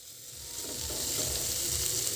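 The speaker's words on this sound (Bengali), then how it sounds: "এখন মশলার সাথে সবজিগুলো খুব ভালো করে কষে নিতে হবে, কিন্তু ভাজা ভাজা না হয়ে যায় সেই দিকে খেয়াল রাখতে হবে" Vegetables are stir-fried with spices in a pan, a sizzling hiss that swells and holds steady with low scraping and stirring underneath.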